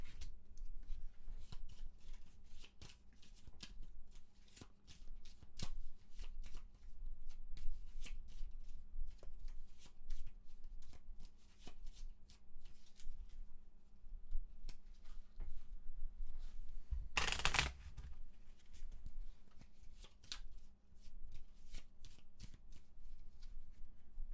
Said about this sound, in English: Do a couple more shuffles of this